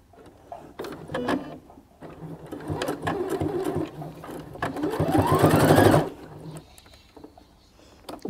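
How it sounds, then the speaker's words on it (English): Electric sewing machine stitching fabric along a seam edge, a steady close mechanical whirring hum with brief pauses and restarts, rising to a faster, louder run before stopping. "So I will just finish the sewing."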